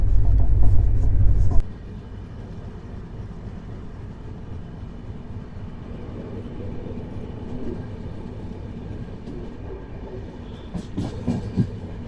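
The Sanghmitra Express passenger train rolls along the rails, opening with a loud close roar that drops after a second or two to a steady onboard rumble with faint clicking and occasional squeals.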